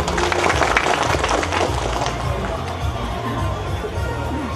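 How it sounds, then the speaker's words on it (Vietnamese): Crowd applause at a residential-area cultural recognition ceremony, steady clapping from many hands that is strongest at the start and then eases into a softer, continuous patter. "Đề nghị chúng ta dành một tràng vỗ tay thật lớn để cổ vũ khu dân cư."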